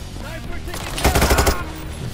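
Gunfire during a heist in the video game Payday 3: a rapid burst of automatic shots in the middle, loud and close, with quieter game sounds before and after.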